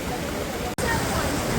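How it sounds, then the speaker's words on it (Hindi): Rushing water of Kalu waterfall during a monsoon trek, a steady loud broadband roar with a brief dropout partway through, continuing unchanged afterward. "कालू वाटरफॉल, रेनबो बनेगा,"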